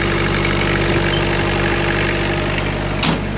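Four-cylinder Kubota GT3 compact tractor engine idling smoothly and steadily, a close, continuous low mechanical hum with a brief louder burst near the end.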